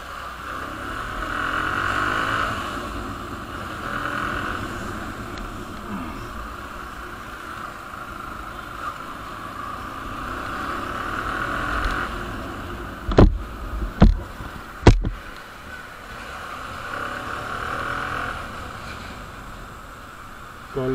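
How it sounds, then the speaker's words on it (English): A modified motorcycle ridden on a short loop before refuelling, heard as a steady engine drone mixed with wind rush throughout, with a few sharp knocks or bumps near the end and no talk. "So before we go for petrol filling, we'll take one or two small rounds on the bike."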